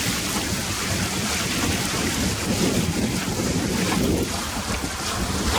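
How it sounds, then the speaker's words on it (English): Strong, steady wind roars around an open sailing dinghy cruising Myall Lakes in about 10 knots of breeze, with continuous loud gusting buffeting close to the microphone and water rushing beneath, no voices. "the wind's definitely picked up this afternoon"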